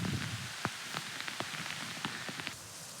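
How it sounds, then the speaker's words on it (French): A sudden heavy tropical rainstorm in the Amazon comes through as a faint, steady wash of rain with scattered sharper drops patting close by. "un soudain gros orage tropical, si fréquent en Amazonie"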